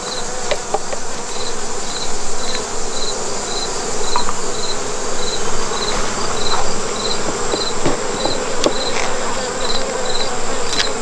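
Honey bees hum continuously in a thick, close swarm around a hive, while a regular high-pitched insect chirp pulses underneath and occasional light taps sound.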